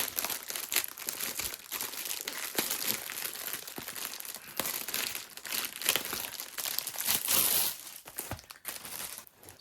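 Crinkling and tearing of a Temu diamond painting package sealed with sticky tape, plastic wrap crumpling and tape ripping in continuous close bursts, loud and busy with no talking.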